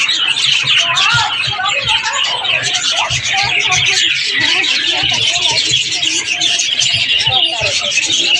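Small birds bathing in water chirp and tweet busily and continuously, close by, with a pigeon-like coo now and then and murmuring voices in the background.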